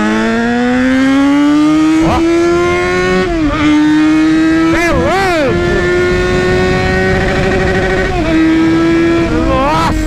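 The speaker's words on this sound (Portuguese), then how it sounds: "eu curto dar uns cortes de giro com a moto" A loud Yamaha XJ6 motorcycle engine revs hard and steadily near the limiter, with repeated sharp cuts and stutters in pitch; a voice briefly exclaims.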